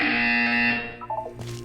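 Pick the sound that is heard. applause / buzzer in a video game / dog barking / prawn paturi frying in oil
buzzer in a video game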